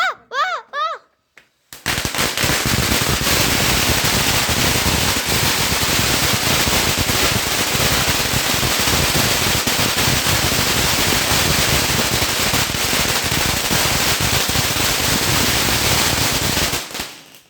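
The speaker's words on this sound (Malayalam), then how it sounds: "ഇതിനൊരു വലിയ പടക്കം പൊട്ടാ പോവാണ്" A big firecracker erupts into a long, loud, continuous crackling barrage of rapid bursts lasting about fifteen seconds, close by, preceded by brief voices before it starts.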